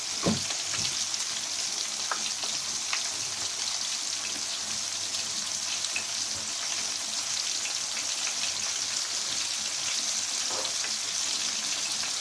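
Breaded chicken panné frying in moderately hot oil, giving a steady, dense sizzle and crackle that runs evenly throughout, with a few brief louder pops near the start and no talking.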